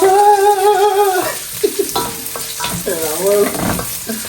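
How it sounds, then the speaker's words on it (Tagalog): Filipino adobo bubbling and sizzling in a pan, with stirring scrapes and clinks close by, while a tonal whine sounds over the start. "Ito na yung adobo, mga kaibigan, no? Kumukulo na siya."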